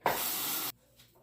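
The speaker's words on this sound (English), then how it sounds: "time to rinse the razor again" A Feather Popular safety razor is rinsed under running tap water in one brief, close, loud rush of water that lasts under a second and stops abruptly, followed by near silence.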